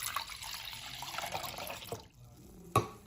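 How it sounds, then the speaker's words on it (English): Water poured into a humidifier tank, a close trickling flow for about two seconds, then a quieter pause and a single sharp knock or clack. "Then put the water on the tank."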